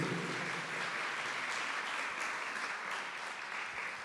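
Steady, dense applause from a church congregation, a broad wash of many hands clapping that holds evenly throughout at a moderate distance.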